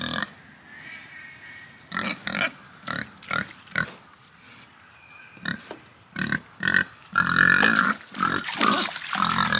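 A single pig in its outdoor run on a small homestead grunts repeatedly and close by, short snuffling bursts in an irregular rhythm that grow denser and louder toward the end.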